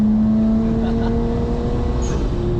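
Nissan Skyline R34 GTT engine running steadily inside the car with a sustained droning tone and rumble, loud and close throughout, no clear rise in revs.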